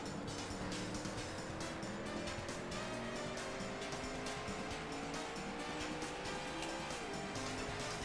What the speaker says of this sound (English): You do get the great engine sounds going on.